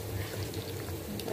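Browned onions with their oil are poured into a cooking pot for mutton biryani, giving a soft, steady liquid pour with low sizzling underneath, close and moderately quiet.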